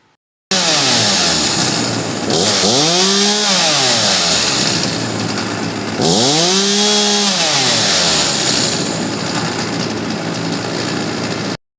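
A Homelite 3514C chainsaw runs after a carburetor repair with new fuel lines and primer bulb, loud and close, with its engine note rising and falling through two distinct revs over a steady roar.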